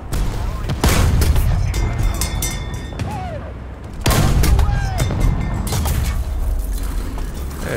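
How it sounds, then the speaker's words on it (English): A tank cannon booms in War Thunder ground battles, heavy blasts near the start and middle with mechanical creaks and rumbling engine noise between, and someone talking over it. "Oh, a shot from over there."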